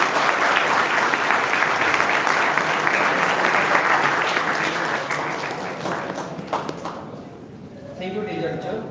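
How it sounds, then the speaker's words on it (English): Applause from an audience at a high school commerce toppers' felicitation, a loud sustained burst of clapping that gradually thins out and fades, followed by faint voices and scattered sounds near the end. "Give a big round of applause to Chintan Patel."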